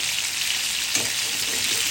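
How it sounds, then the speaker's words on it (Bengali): About a kilogram of rice frying in a pan makes a steady, dense hiss that fills the whole clip, with a faint soft stir near the middle. No one speaks. "এই পর্যন্ত 1 কেজি চাল ভেজে নিলাম"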